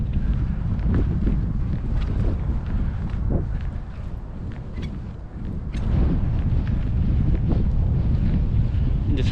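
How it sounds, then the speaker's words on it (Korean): Strong wind blows across an outdoor used-car lot, roaring and buffeting the microphone in loud gusts that briefly ease midway before building again. "와, 바람이 상당히 많이 붑니다"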